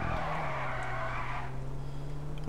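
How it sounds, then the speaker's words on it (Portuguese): A Panto car drifting in GTA V on PS4 during a Panto race, with a loud, sustained tire squeal and skid over a steady engine hum that continues after the squeal fades. "Olha o drift de panto"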